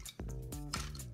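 Ice cubes plop into a glass of water during a colour-changing water experiment, with three distinct splashy drops spaced a few tenths of a second apart, each followed by a short ringing, bubbly tail, close and fairly quiet.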